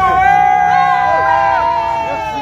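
A Cameroonian crowd cheers, shouts and whoops together at a celebration, a loud dense roar close by with raised voices and tonal shouts rising and falling throughout.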